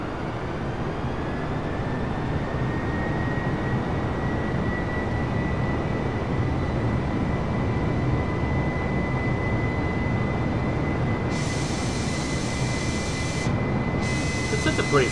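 An Airbus A320 climbs in Microsoft Flight Simulator, its jet engines giving a loud, steady, broadband roar with a faint high whine throughout, and brief hissy bursts near the end.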